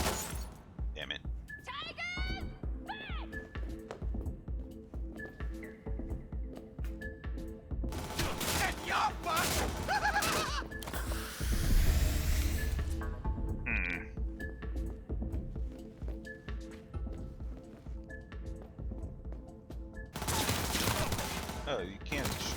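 Enemy gunfire in Cyberpunk 2077 on Very Hard difficulty, with rapid bursts of shots and loud impacts against game music and effects. A player talks over it at times.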